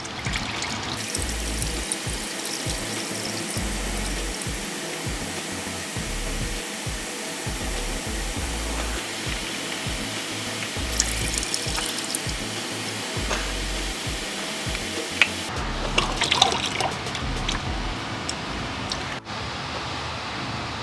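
Engine oil drains in a steady, continuous pour from a Camaro LT1 V8 into a pan, with a constant rushing flow throughout and occasional light handling noises near the end.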